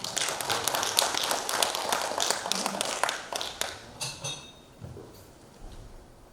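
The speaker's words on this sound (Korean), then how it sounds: "여러분 큰 박수로 맞이해 주시기 바라겠습니다." An audience at a cultural center anniversary event applauds to welcome a lecturer, dense clapping from many hands rolling steadily before thinning out and trailing off into quiet.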